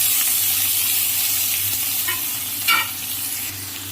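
Raw banana pieces with the peel on fry in a pan of hot oil with nigella seeds and green chili. A steady sizzle runs throughout, with a brief louder burst of stirring near the end.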